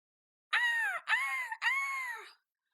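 A person imitates a seagull call with three loud, close, wailing cries in quick succession, each falling in pitch, in an otherwise quiet room.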